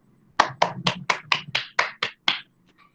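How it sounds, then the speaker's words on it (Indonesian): Hands clapping in a classroom, about nine distinct, evenly spaced claps from a small group of students, fairly close and crisp, stopping cleanly with no talking over it. "Tepuk tangan untuk kita semua"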